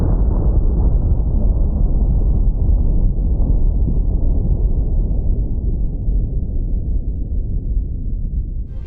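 A filmed nuclear explosion produces a deep, continuous, muffled roar with heavy low-end rumble that rolls on for several seconds and slowly weakens, with no voices present.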